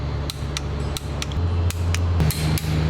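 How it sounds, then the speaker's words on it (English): Sharp metallic clicks from a torque wrench tightening an engine mount on a Stage 3 GTI car, several spaced clicks over a low steady hum that shifts in pitch. "Yeah, the torque wrench has come out"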